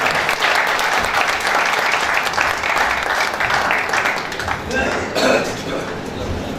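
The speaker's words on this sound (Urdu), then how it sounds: "بھرپور تالیاں" Audience applause at a book event for a poet, sustained dense clapping from a hall crowd throughout, easing slightly near the end.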